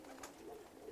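Pigeons in a dealer's group of twenty mixed male and female racing birds coo softly at a distance, a faint low murmur without talk.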